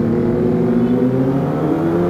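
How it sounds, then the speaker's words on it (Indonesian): Motorcycle engine running at a steady, even idle-to-rev drone, loud and close throughout with no talk over it. "Adem banget suara motor aku."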